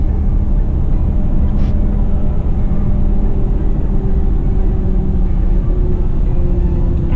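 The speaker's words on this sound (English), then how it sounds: "Overall, I don't think road noise is terrible." Steady, loud road roar from Atturo Trail Blade XT tires on a moving vehicle, a continuous low rumble with a faint whine that holds without a break, and no talking over it.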